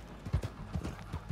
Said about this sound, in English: You get on a damn mule and ride it around, because there's mules here